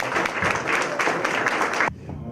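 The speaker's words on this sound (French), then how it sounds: "Donc je pense que je devais les applaudir." A small audience in a château room applauds the friends' association, brisk close clapping for about two seconds that stops abruptly, followed by a quiet pause.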